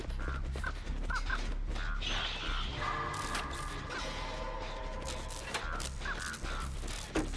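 Crows cawing in the video game Dead by Daylight: repeated caws and flutters over a constant game soundscape with low rumble and mechanical noises, steady and moderately loud throughout.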